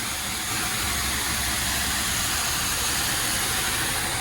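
A pressure washer sprays high-pressure soap at about 1200 PSI, producing a loud, unbroken hiss that holds steady from start to finish with no voices.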